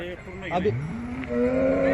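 Cows at a large cattle market in Maharashtra, one close, loud drawn-out moo rising and holding for about a second, over faint background market noise.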